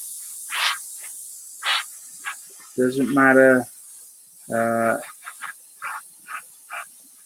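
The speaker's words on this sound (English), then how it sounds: "Just a very quick spray over." An airbrush puffs short bursts of paint onto a 1/24 Airfix Spitfire Mk Vb model kit, a series of quick hissing sprays spaced apart, with someone talking over the middle of the sequence.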